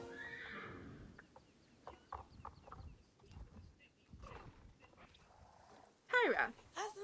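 A horse whinnies loudly and briefly in a video game, rising over soft ambient game sounds and other faint animal noises, near the end of the stretch.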